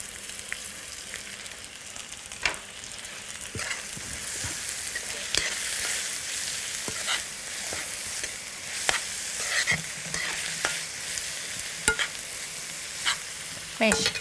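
Garlic slices sizzle and fry in a pan alongside minced garlic for an Egyptian fatta, a steady close hiss with occasional stirring clicks and scrapes throughout, no voices.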